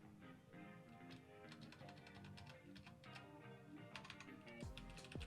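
Someone types on a computer keyboard, a quiet run of quick, irregular keystroke clicks that speeds up in places over a low room hum.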